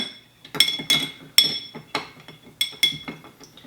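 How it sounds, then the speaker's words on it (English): A large ice cube is stirred in an Old Fashioned glass, making a series of bright clinks and knocks in an irregular rhythm, close and fairly loud, with no talking. "Give it another little stir."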